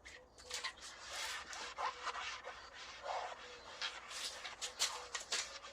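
A Magic Eraser scrubs the vinyl of a pop-up camper with a Starbrite mildew stain remover. The rubbing is soft, close and rhythmic, in back-and-forth strokes with brief pauses.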